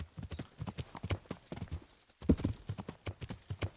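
Horse hooves clip-clop in Kingdom Come: Deliverance, a run of sharp, close, rhythmic knocks in a brisk uneven gait, with a short pause midway before the steps resume louder, and no talking over them.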